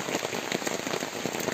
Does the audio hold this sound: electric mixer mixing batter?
no